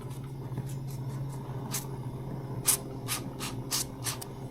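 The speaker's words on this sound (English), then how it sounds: "We're gonna spray some oil on it." Several short, quick hissing spurts of canola cooking spray onto burgers on a barbecue grill, over a steady low background hum.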